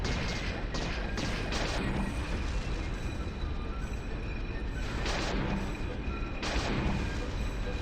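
Grenade eggs exploding in Banjo-Kazooie: Nuts & Bolts, a dense, continuous wash of booming blasts and crashing impacts with a few sharper bursts standing out, loud and sustained throughout with no talk.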